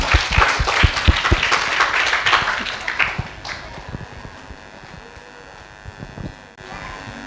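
Applause at a school Independence Day celebration as a student is called to the stage, lively clapping from a crowd for about three seconds, then tapering off into quiet room noise.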